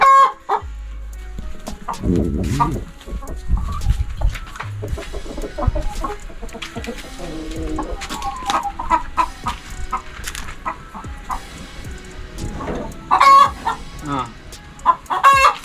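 A hen that has just laid an egg clucks repeatedly and insistently, close by, with bursts of louder cackling amid farmyard background noise.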